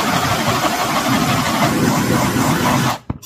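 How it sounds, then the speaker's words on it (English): A torch flame plays over an epoxy-coated 15-ounce tumbler, making a steady, loud, breathy roar that holds for about three seconds and then cuts off abruptly, leaving a brief faint tail. "I'm gonna go ahead and torch this cup now."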